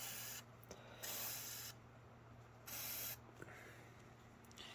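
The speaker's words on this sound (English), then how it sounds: "I'm going to spray it again." Penetrant sprays onto a stripped fill cap on a Hydrogear transaxle of a Cub Cadet Z Force mower in three close hissing bursts, each about half a second, with faint handling noises between.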